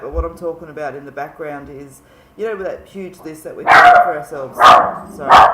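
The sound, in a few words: dog barking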